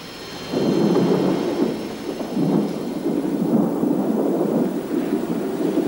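Steady rumble of a tropical river-region thunderstorm in Brazil and Peru, with rolling low thunder and rain hiss, sustained and fairly loud throughout.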